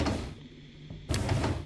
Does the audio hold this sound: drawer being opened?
yes